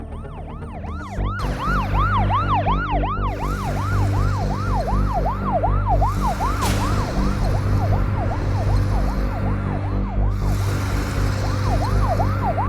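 A siren on an arriving minister's car wails in a rapid repeating rise-and-fall, loud and close over a low engine hum, sweeping steadily and continuing throughout.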